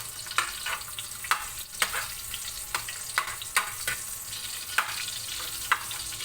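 Garlic fries in oil in a pan with a soft, steady sizzle, while a utensil stirs it in scattered clinks and scrapes.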